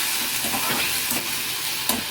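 Tempering for khichdi crackles hard in hot oil in a pan, a dense continuous sizzle with brief stirring clinks and a sharp pop near the end.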